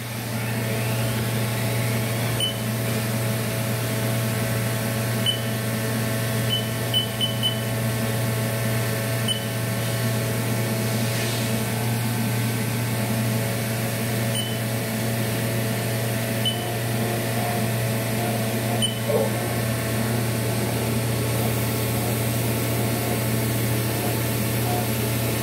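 A 2014 Haas VF-6SS four-axis CNC vertical mill spindle running at 5,000 RPM gives a steady, even mechanical hum with a faint whine, constant and unchanging throughout, with no talking.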